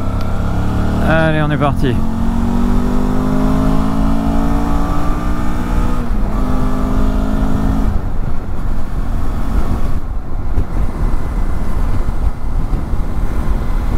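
A 2004 Suzuki DL 650 V-Strom motorcycle pulls away and accelerates onto an expressway, its engine note climbing through gears under loud wind roar, with a rider briefly speaking at the start.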